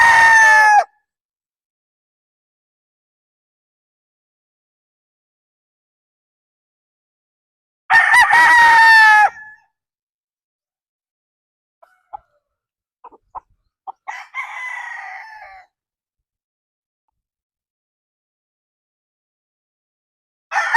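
Nine-month-old Boston Roundhead stag rooster crowing loudly and close by, three separate full crows spaced across the stretch, with brief softer clucks and quiet gaps between them.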